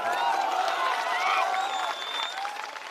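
A crowd at a Jan Suraaj Party public rally in Samastipur, Bihar, claps in a dense, steady roar of applause that swells and then fades slightly toward the end, with no pauses.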